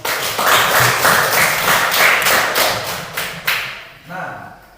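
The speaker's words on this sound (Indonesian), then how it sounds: "Ayo kita tepuk tangan" A class of schoolchildren claps their hands together in a classroom, a dense burst of rhythmic clapping that tapers into a few scattered final claps, with some voices mixed in.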